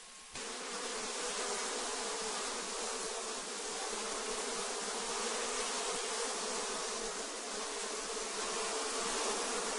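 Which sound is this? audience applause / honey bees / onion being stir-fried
honey bees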